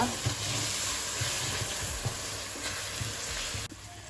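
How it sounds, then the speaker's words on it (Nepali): Spices sizzle steadily in hot oil in a pan while a Nepali parwal curry with mustard is being cooked, a continuous loud hiss with faint stirring scrapes and no talking. "सबै मसलाहरू राखेर एकछिन भुटेपछि"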